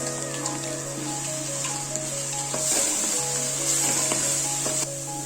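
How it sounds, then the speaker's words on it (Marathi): Onion and coconut paste sizzles steadily as it fries in oil in a pan for spicy Kolhapuri misal, with scraping stir strokes cutting through the continuous close frying hiss. "आता आपल्याला तेल सुटेपर्यंत खरपूस भाजायचं आहे।"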